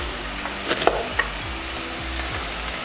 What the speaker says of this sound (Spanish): Sofremos bien la cebolla